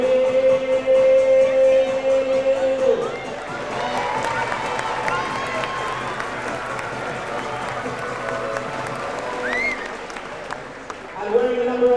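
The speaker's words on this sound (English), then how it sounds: "Number 6, give a big cheer" A crowd at a Torquay United football pitch in 1999 cheers and applauds as a player is introduced, broad roaring noise swelling under a tannoy announcer's voice, with bright tones at the start and end.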